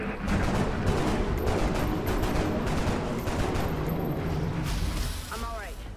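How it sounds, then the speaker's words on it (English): Rapid bursts of alien gunfire from Mutons in the strategy game XCOM: Enemy Unknown, a dense, loud volley of shots and booms filling the clip before tapering slightly near the end. "the Muton shoots but does not come close to connecting"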